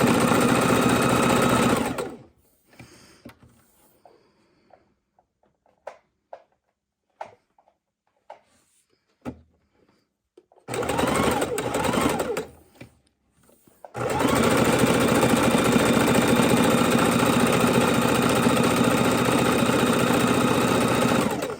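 Sewing machine stitching a felt Easter egg, loud continuous rapid stitching in three runs separated by quiet pauses with small clicks and handling noises, close up.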